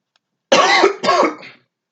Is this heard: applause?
no